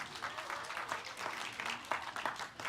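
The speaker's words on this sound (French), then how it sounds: "On les applaudit." A church congregation applauds to welcome a visiting family during a French-language service, a fairly quiet, sparse patter of clapping that continues steadily throughout.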